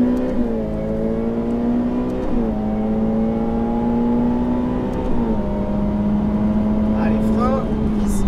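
A Ferrari F8 Tributo accelerates on a race track at Fontenay-le-Comte, its engine a steady loud drone that climbs in pitch through the gears, with brief dips at each shift.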